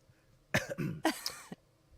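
A man in an audio drama gives two rough coughs in quick succession, close and dry, against near silence.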